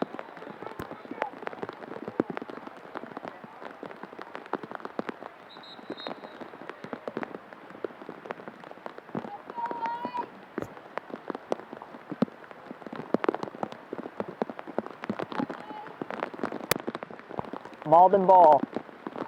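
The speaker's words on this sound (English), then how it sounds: "Rain is coming down heavily right now." Heavy rain pours down during an outdoor girls' varsity lacrosse game, a dense constant patter with sharp drop hits. A commentator talks briefly over it.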